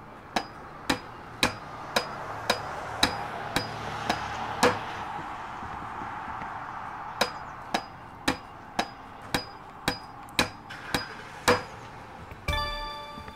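Repeated hammer strikes in the construction game Demolish & Build 3, sharp regular knocks about every half second, close and loud, with a brief pause mid-way before the steady hammering resumes.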